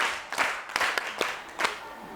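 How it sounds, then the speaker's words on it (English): Scattered hand claps from a small classroom group of students, a handful of sharp broadband slaps spread irregularly over about two seconds, moderately close and fairly quiet with no talk. "Very good, clap for her."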